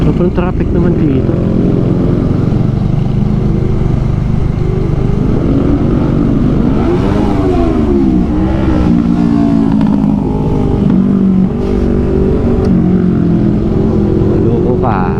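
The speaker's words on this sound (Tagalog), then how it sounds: "Sobrang traffic naman dito." Loud, continuous engine drone and revving from a motorcycle ride through heavy road traffic in Pampanga, with passing vehicles blending into a thick, close roar throughout.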